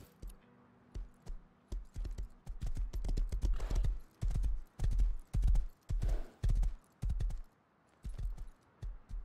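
Horse hooves in the video game Rust clip-clop in a steady rhythm, close and clear, each strike distinct, speeding up slightly, with no voices over them.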